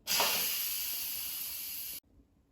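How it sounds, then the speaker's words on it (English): Steam hisses loudly and steadily from an Instant Pot's quick-release valve after cooking boneless pork chops, a strong continuous rush for about two seconds before it cuts off abruptly into near silence. "we're going to quick release the remaining steam"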